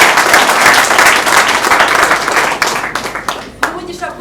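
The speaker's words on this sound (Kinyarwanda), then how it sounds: "Tubaha amashyi." Loud applause from a wedding audience, a dense wash of many hands clapping close by for several seconds before it thins out into scattered claps with a few voices.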